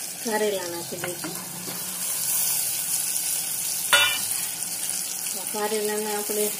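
Stuffed bitter gourds with leftover spice masala fry in a pan over a low gas flame, a soft steady sizzle with a few clinks, while a voice speaks briefly at the start and end.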